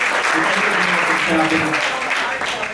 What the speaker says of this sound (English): how about another huge round of applause for all of the volunteers that have helped make today and the past happen